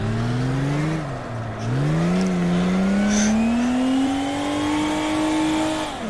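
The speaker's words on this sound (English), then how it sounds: "and drifting like this." A car drifting in a VR racing sim roars with a loud, continuous engine note that dips and climbs as the throttle is worked through the slide; any tire squeal is buried under the engine.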